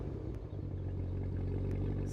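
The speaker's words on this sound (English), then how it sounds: "I have to play you a clip of remote start from outside of it" Cadillac Escalade V engine idling just after a remote start, heard from outside the truck: a low, steady rumble with a faint clatter, fairly quiet and continuous, with no voices.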